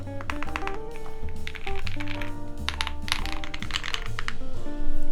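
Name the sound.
typing on Owlab Tiramisu mechanical keyboard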